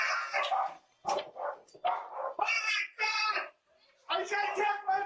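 A dog being attacked by a bear barks and yelps in loud, close, repeated bursts with short pauses between them. Excited human voices are mixed in.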